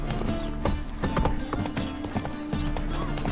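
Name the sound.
horse Roach galloping hooves from video game The Witcher 3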